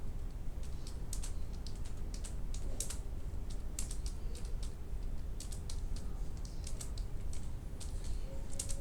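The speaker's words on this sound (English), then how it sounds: "for instance, I will continue typing." Steady clatter of keys on a computer keyboard while someone types code in VS Code, with quick irregular clicks at close range over a low background hum and no speech.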